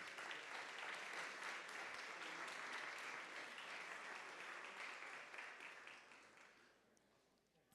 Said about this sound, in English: another round of applause for Muan